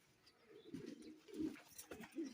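Pigeons coo in low, throaty bursts, three rounded swells repeating about every half second to a second, close by with faint background noise and no talk.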